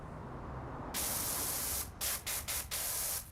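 A pressure washer sprays water in Powerwash Simulator 2, a loud, broadband hissing jet that starts abruptly, runs steadily, then breaks into several short bursts as the spray is stopped and restarted.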